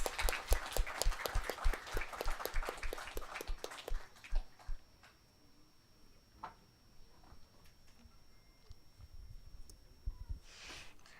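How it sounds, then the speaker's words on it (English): Brief rhythmic clapping from a small audience at a young authors' book launch, a few seconds of steady even claps that stop abruptly, followed by quiet room sounds and faint scattered noises. "Can we have a loud round of applause?"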